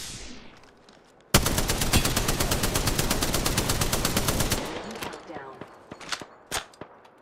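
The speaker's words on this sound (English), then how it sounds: "What are you shooting?" Sustained automatic gunfire in the Apex Legends video game, a dense unbroken burst of rapid shots lasting several seconds, followed by scattered single shots and metallic clinks as it tapers off.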